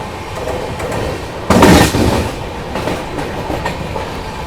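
The Pune–Hyderabad Shatabdi Express runs along the track with a steady rumbling roll and clickety-clack, and a sudden louder burst of rushing noise partway through.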